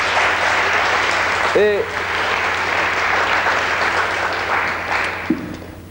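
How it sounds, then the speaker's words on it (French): Studio audience clapping steadily throughout on a French TV game show, a dense sustained patter with a brief host voice thanking someone partway through. "on vous applaudit une dernière fois"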